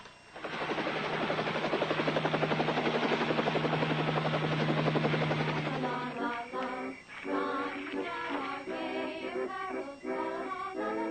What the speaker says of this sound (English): You better get me the helicopter.